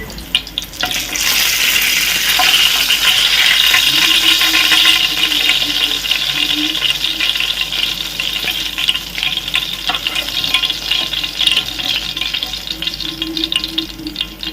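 Fish frying in a pan for a simple Telugu-style fish fry makes a loud, continuous crackling sizzle that swells early, then settles into a steady hiss with scattered pops, and nobody speaks.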